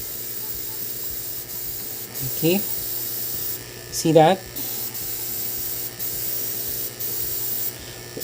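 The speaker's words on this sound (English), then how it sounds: "this is how I color it using an airbrush" Airbrush spraying color onto a paper banaba flower in ikebana style, two short hissing bursts over a steady background hum, with someone speaking briefly.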